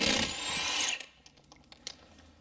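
Spline drive lug nuts being removed from a car wheel with a power tool: one loud whirring burst of about a second, then sparse faint clicks and rattles.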